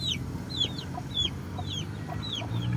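Abuhin (grey) hen with her growing chicks clucking softly close by, rapid high chick peeps repeating over a steady low murmur of the brood.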